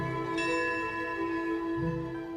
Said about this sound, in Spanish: Cuando suena la campana,